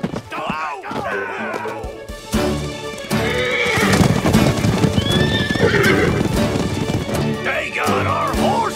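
Horses neigh and whinny repeatedly while hooves clip-clop at a gallop, loud and close in a cartoon scene, with shouting voices and crashing sounds mixed in.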